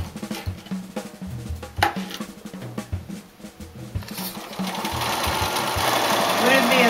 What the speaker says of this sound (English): So you just sew down the center on that drawn line